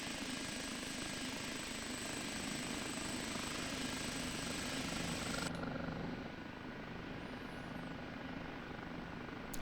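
An OH-58D Kiowa Warrior helicopter in DCS hums with a constant turbine whine and rotor throb as throttle is added for a slow climb, steady and fairly faint, with a slight drop in tone partway.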